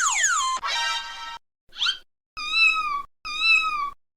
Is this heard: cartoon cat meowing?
yes